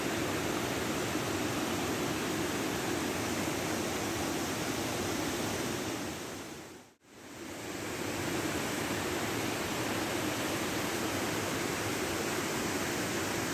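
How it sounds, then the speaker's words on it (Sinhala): Miyunu Ella, a waterfall about 60 metres high in Ratnapura district of Sabaragamuwa, Sri Lanka, roars as a steady, dense broadband rush of falling water, loud and unbroken apart from a brief dip midway. "මෙම දිය ඇල්ල මීටර් 60ක පමණ උසකින් යුක්තය"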